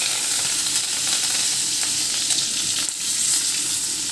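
Curry leaves fry in a hot pan, giving a loud, steady crackling sizzle with bright hiss throughout, alone and without any talking.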